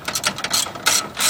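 A 10 millimeter ratchet works a hood latch bolt on a Honda Civic EK, giving several quick bursts of close, crisp metallic clicking in uneven rhythm.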